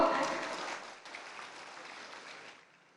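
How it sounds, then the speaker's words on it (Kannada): Applause from an audience at an event, a brief burst of clapping that starts loud and fades away over a few seconds. "ಹೆಣ್ಮಕ್ಳಿಗೆ ಅದು ವಿಶೇಷವಾದ ಚಪ್ಪಾಳೆ ಬರಬೇಕು"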